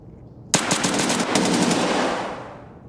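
Rapid automatic gunfire in the shooter game Escape From Tarkov on the Factory map, a sharp burst of shots that rings out and decays into a fading reverberant tail.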